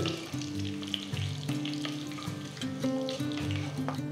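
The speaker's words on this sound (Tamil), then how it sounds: "கடுகு நல்லா பொரிய ஆரம்பிச்சிருச்சு." Mustard seeds popping and spluttering in hot oil, a steady crackling sizzle with a low background hum running through it.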